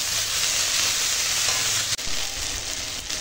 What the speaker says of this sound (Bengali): এবার শাকটা রান্না করে নেবো